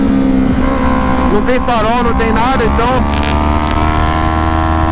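Yamaha R3 Cup race motorcycle with fiberglass fairing at Interlagos, engine rising and falling in pitch through sharp revving bursts, close and loud, with someone speaking over it.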